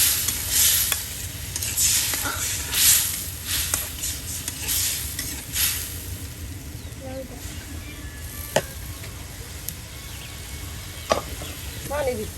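Potatoes go into a pangas fish curry with chal kumro (ash gourd), giving a steady close sizzle and frying hiss with repeated scraping stir strokes, a few sharper clinks, and no talking.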